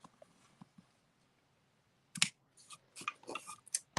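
Scissors snip through paper strips trimmed for a handmade greeting card, a few faint early cuts followed by a denser run of crisp, close snips with short pauses between them.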